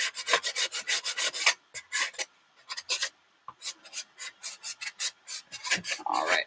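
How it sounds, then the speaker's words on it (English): A mask being sanded by hand, giving steady rhythmic rasping strokes, close and fairly loud, in quick back-and-forth bursts with a brief pause midway, no voices. "we have our mask pretty much sanded down"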